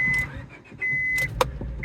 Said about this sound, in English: About to start up the car for the first time since I parked it.